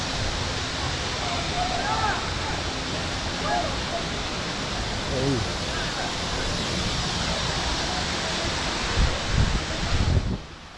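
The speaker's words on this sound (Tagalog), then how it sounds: "Meron pong natural flowing ng tubig dito." Natural flowing water at a swimming falls rushes in a continuous broadband roar, close and steady, with faint voices under it and some rustling and handling near the end.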